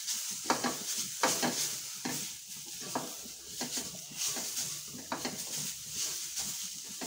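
Grated beetroot and ragi flour are stir-fried in a pan with ghee over low heat, with a steady sizzle and repeated scraping strokes of a spoon, close and without talk.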